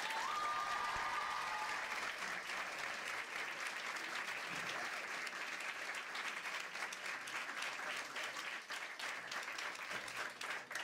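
Sustained applause from an audience, a dense, steady clapping that continues throughout without pause.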